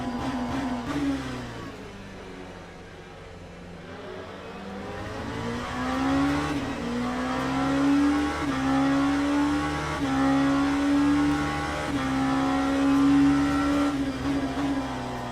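Race car engines rev through the gears in the Le Mans Ultimate sim racing game, a loud sustained whine rising and falling in repeated shift cycles with faint tire noise, no talking.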